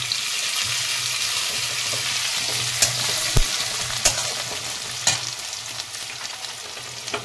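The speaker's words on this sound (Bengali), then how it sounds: "কারি পাতাটা হালকা ভাজা হয়ে যায়" Curry leaves crackle and sizzle in hot oil in a pan, a steady loud frying hiss with a few sharp pops and spatters, no talking.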